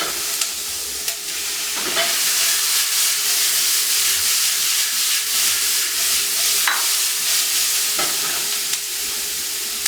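Moose meat and vegetables for fajitas sizzle steadily in a hot pan, a loud continuous hiss with occasional stirring clinks and scrapes, and no talking.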